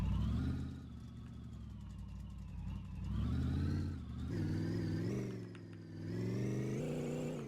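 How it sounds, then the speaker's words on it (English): A tireless V8 car that sounds like it is struggling runs nearby, its engine rising and falling in repeated revs over a rough, loud mechanical drone. "The engine's still got life to it"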